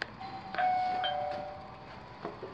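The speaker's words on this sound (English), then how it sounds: "Sky bell, doorbell," An indoor doorbell chimes, several clear tones ringing out and overlapping before fading, with a softer second chime near the end; no talking.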